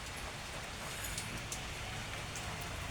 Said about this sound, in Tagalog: kaya lang na ulan.